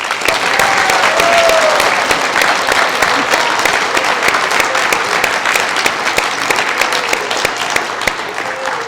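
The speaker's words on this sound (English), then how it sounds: "please join me once again in applauding all of our new Honor Society members" Loud, sustained applause fills an auditorium at a National Honor Society induction ceremony for new members, a dense, even wash of many hands clapping throughout with no talk.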